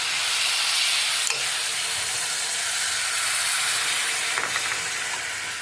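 Hot water goes into a pan of sizzling potato curry, raising a loud, steady hiss of steam and frying that continues close throughout, with a few clinks of a spoon.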